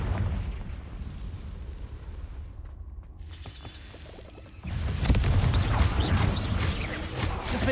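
Spell-casting effects from the Hogwarts Legacy video game, with an explosive Confringo blast: a hissing, crackling buildup followed by a loud, sustained roaring burst of noise that fills the rest of the clip.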